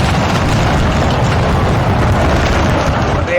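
A dense, loud roar of battle sound from a musket volley in Napoleon Total War, with the Grand Battle Mod in a 4v4 fight, fills the whole clip as a continuous rumbling wash with no distinct separate shots.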